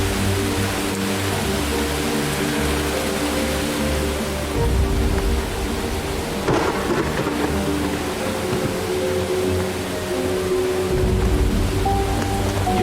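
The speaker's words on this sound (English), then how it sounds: "Let me loop the rain sound here." Steady looped rain, a broad even hiss with a low rumble underneath, holding level throughout with no voices.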